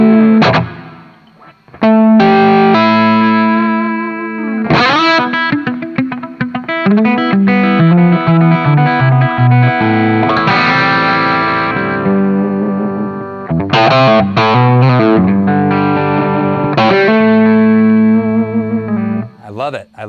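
Electric guitar played through a Jared James Nichols signature Blackstar amp head and cabinet with reverb at maximum: loud, distorted chords and single-note runs ringing out in a long, washy reverb tail, steady and close throughout.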